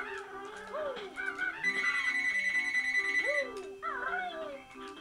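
A telephone rings in the Banjo-Kazooie video game, a steady electronic bell tone interrupted by cartoonish character vocal squeaks and warbles, with game music playing underneath.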